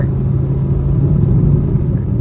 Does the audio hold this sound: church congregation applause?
no